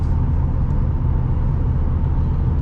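Interior cabin noise of a silver 2013 Ford Fusion Hybrid SE cruising on cruise control on nearly new Goodyear tires, a steady low road rumble and engine drone, loud and even throughout.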